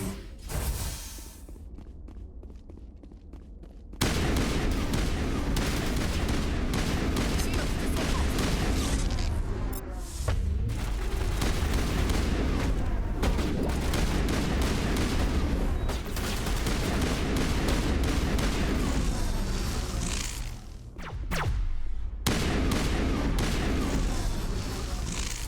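Dense, nearly continuous gunfire roars through a firefight in the video game Mass Effect, rapid bursts and heavy booms layered loudly for over twenty seconds, with short lulls near the start and toward the end.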